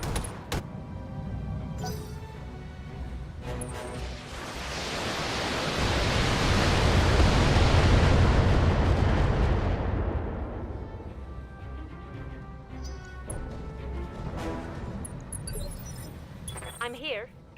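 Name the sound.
mech firing all weapons in video game BattleTech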